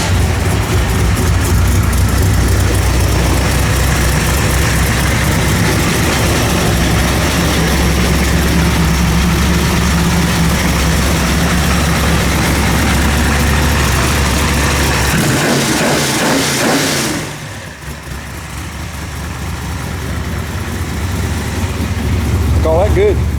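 Car engine in a 1957 build with a dash ignition switch, rumbling steadily at a loud low idle close by, cutting out near the end before settling back in, with people talking over it.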